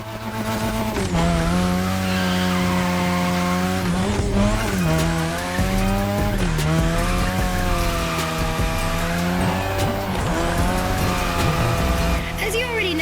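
A car drifts around a drift track in The Crew Motorfest, its engine holding a loud, steady high-revving note as the tires squeal continuously, with brief dips in revs between long slides.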